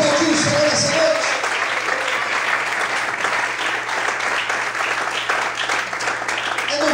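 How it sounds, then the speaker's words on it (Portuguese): Church congregation applauding during a service, a broad, steady roar of clapping from many people, with a brief voice and sustained tone at the start before the applause continues evenly. "Você pode aplaudir o Senhor essa noite?"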